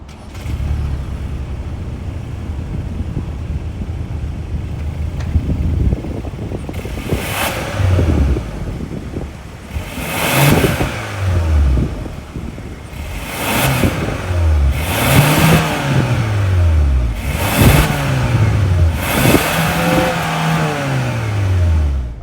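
A 2024 Hyundai Santa Cruz Limited's 2.5-liter turbocharged four-cylinder idles, then is blipped through a series of sharp, loud revs that climb and fall back repeatedly, heard close from outside near the exhaust.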